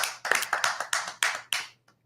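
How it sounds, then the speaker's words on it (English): Sharp hand claps in quick pairs, about seven crisp slaps in a steady rhythm, close and loud with nothing else around them. "Double clapping."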